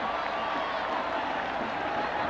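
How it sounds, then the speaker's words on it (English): A stadium crowd at a 1989 Clemson at South Carolina college football game, a dense steady roar of cheering and applause that fills the whole moment, loud and unbroken. "you can hear the crowd cheering for Turner, as they should"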